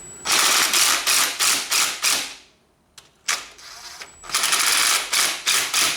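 A small impact wrench tightens the chain adjuster on a Yamaha Banshee. Rapid rattling hammer bursts come in repeated close, loud pulses, with a brief quiet gap in the middle before the bursts resume.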